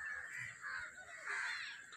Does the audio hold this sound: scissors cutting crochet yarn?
no